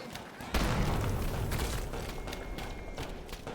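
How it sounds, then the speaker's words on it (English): A loud explosion booms in the horror game Amnesia: The Bunker, bursting in suddenly and leaving a sustained roaring rumble with faint rattling. "Normally I'd be upset that the sound got so loud for that explosion"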